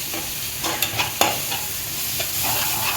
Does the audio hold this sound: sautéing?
yes